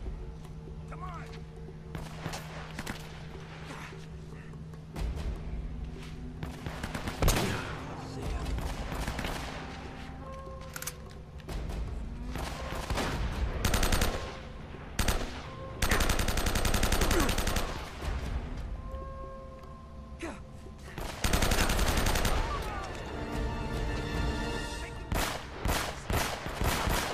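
Combat in Uncharted: Drake's Fortune brings repeated bursts of automatic gunfire, some heavy and loud, others lighter, spread across the scene among footsteps and game ambience, with someone talking at times.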